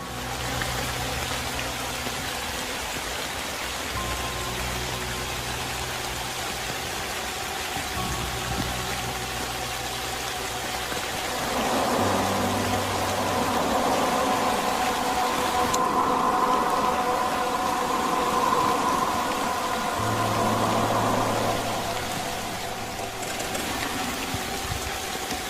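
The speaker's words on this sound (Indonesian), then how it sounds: "Di tengah derasnya hujan yang menempati tenda mereka" Heavy rain pours onto a tent in a steady, dense hiss that swells for a while in the middle, with a low hum underneath and no voices.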